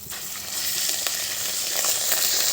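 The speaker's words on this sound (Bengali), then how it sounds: "এবার দিয়ে দেব আদা বাটাটা" Ginger paste hits hot oil and spices in a pan for a cabbage curry, giving a steady close hiss of sizzling that lasts the whole moment.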